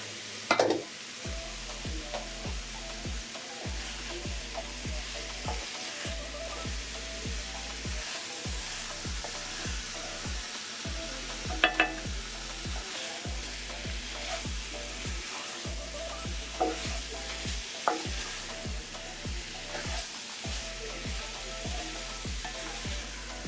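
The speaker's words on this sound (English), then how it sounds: "Add the boiled mango in and mix to get it coated." Boiled mango pieces mixed and fried in a pot, with a steady sizzle and repeated scraping strokes of the spoon in an even rhythm, close and continuous.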